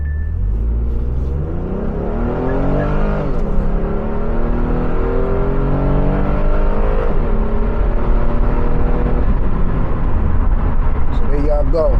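A car pulling hard under acceleration, its engine note climbing in repeated rising sweeps as it runs up through the gears, loud and close throughout.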